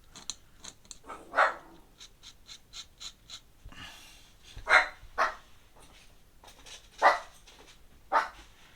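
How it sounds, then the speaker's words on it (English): A dog barks in a series of sharp, close barks spaced irregularly, some louder than others, between quieter panting and breathing sounds. "Oh, what are you barking at?"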